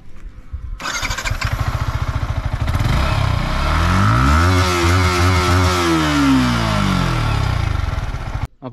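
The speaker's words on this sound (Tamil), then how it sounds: "இந்த இன்ஜினோட சவுண்டை கேட்டு பாருங்க, செம்ம ஸ்மூத்தாக இருக்கும் இந்த இன்ஜினோட சவுண்டு." A Yamaha R15 V4 motorcycle engine starts with a clatter, then runs steadily and revs up and back down in a smooth, sustained drone, close and loud with no talking.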